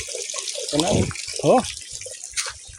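Spring water pours steadily into a storage tank, a continuous rushing splash with brief voices speaking briefly over it.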